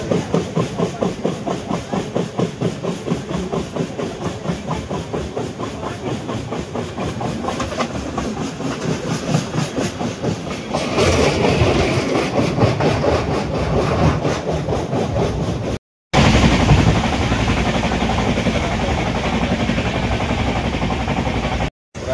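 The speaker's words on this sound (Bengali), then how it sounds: "এখন আমাদের ট্রেন কোলাঘাট ব্রিজ পেরোচ্ছে।" The Shalimar–Puri Dhauli Express rattles across the Kolaghat bridge, a close, loud, rhythmic clickety-clack of wheels over rail joints that grows heavier midway and continues steadily, with two brief dropouts near the end.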